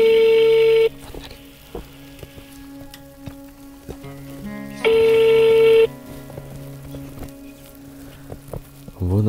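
A phone call's ringing tone sounds twice, each a steady one-second tone with the second about four seconds after the first, over quiet outdoor background noise.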